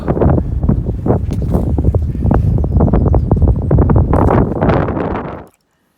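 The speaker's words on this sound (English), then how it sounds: "It's windy too." Strong wind gusts buffet the microphone high on a mountain peak about 3,900 feet up in Green Mountain National Forest, a loud, continuous roaring rush with choppy bursts that cuts off abruptly near the end.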